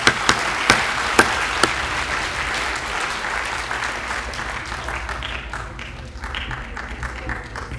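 Audience at a Basant Panchami celebration in a college hall applauding for parents, with dense sustained clapping, a few sharp louder claps near the start, and the applause slowly fading toward the end.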